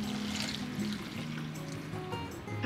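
Hot broth poured from a pot into a bowl of noodles, a soft continuous trickling stream with liquid splashing, close and fairly quiet, with no talking.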